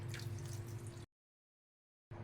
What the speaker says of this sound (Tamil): கொஞ்சமாக தண்ணி சேர்த்துட்டு நம்ம மிக்ஸ் பண்ணிக்கலாம்.